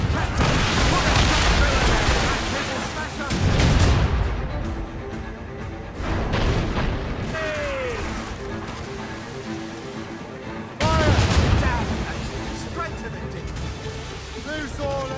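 Ship cannons firing in Assassin's Creed Rogue, deep booming volleys rolling out over ocean wind and surf, several heavy salvos separated by a few seconds, with crew voices shouting orders in between.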